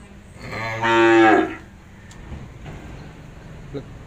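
A cow at a cattle farm in Trà Vinh, Vietnam, lets out a single loud, close moo lasting under a second, followed by quieter farm background noise.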